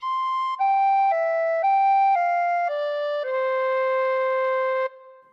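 Tin whistle plays a slow phrase of Silent Night, clear pure tones moving note by note, each held steadily, ending on a long sustained note, with no voices.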